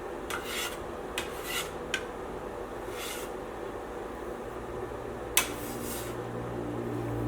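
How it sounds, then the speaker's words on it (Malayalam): Dough scraper dragging across a floured surface, a handful of short dry rasping strokes spaced irregularly, fairly faint and close, with no talking. "ഈ സാധനം ഉണ്ടല്ലോ, ഇതിനെ സ്ക്രാപ്പർ എന്നാട്ടാ പറയുന്നത്."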